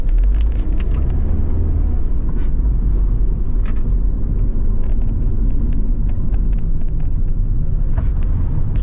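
A truck on a rural road in Trelawny, Jamaica, heard from inside a moving vehicle as a loud, continuous low rumble with scattered clicks and rattles on top, steady throughout with no talk.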